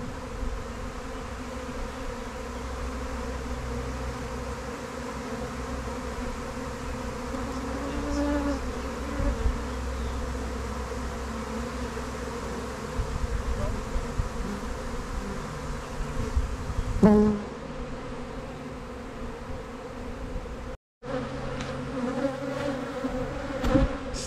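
A live honeybee swarm hums in a dense, continuous buzz around a tree, steady and close with the drone rising and falling slightly as bees fly about, with no talking.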